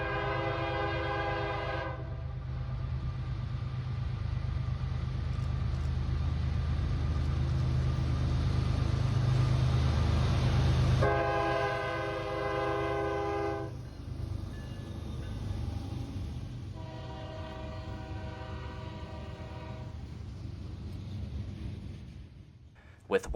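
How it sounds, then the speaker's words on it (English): Trains roll along tracks near a dam in the Pittsburgh area, a low continuous rumble broken by several long, loud horn blasts that start, pause and return. "I can see why they have this, because there are a lot of trains"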